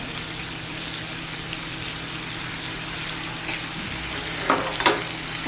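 Modak fish frying in hot oil in a pan over medium gas, with masala and coriander on top, gives a steady close sizzle; a few brief scraping stirs come near the end.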